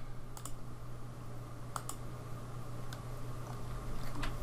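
Rapid, light keystrokes on a computer keyboard while modeling a house in Rhino software, with irregular clicks over a steady low hum.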